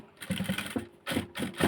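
A sewing machine stitches a skirt in short bursts of rapid mechanical chatter, about three runs separated by brief pauses, close and moderately loud with no talk.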